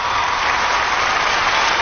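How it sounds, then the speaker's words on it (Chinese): Dense, continuous audience applause in a television studio during a Chinese variety game show, loud and steady for the whole stretch with no voices over it. "我们首先把掌声送给苏导"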